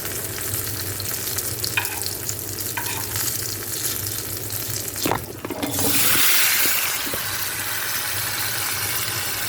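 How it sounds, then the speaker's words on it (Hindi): Stuffed masala potatoes fry in oil with a continuous bright sizzle that swells louder partway through after a brief clatter, with occasional scrapes of stirring and no talk. "भरे आलू को मैं इसके अंदर फ्राई करने रख"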